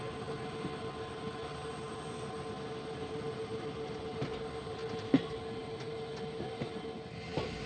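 The Poorna Express rolls along the rail line near Dudhsagar Waterfalls with a continuous low rumble and faint scattered clicks and knocks from the wheels, heard steadily from on board.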